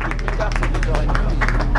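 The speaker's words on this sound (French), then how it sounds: "voilà les applaudissements de l'équipe" A team applauds runners crossing a race finish line at a course in Alençon, steady clapping mixed with crowd babble and a busy outdoor hubbub, close and continuous.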